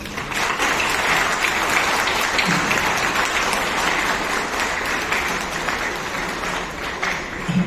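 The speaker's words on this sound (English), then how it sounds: "I think you deserve a big hand of applause from all of us." Applause for a judge at a farewell gathering, a sustained, dense crowd clapping that holds steady and strong for several seconds before easing slightly at the end, with no speech over it.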